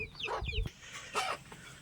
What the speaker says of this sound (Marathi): हे आहेत वाडीतली कोंबडी बघा मला बघितल्यानंतर धावत येते